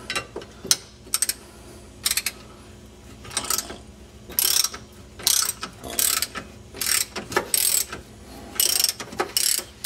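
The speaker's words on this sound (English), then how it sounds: "You go ahead and use a 3/8 drive ratchet." A 3/8 drive ratchet removing a brake bolt, rapid clicking pawl bursts repeated in short rhythmic strokes, close and fairly loud.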